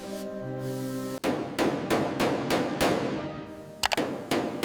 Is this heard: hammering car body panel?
yes